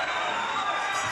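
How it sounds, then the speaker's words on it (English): Boxing crowd roaring and cheering at the final bell of a heavyweight fight, a dense, sustained wash of arena noise with no breaks. "Crowd goes nuts"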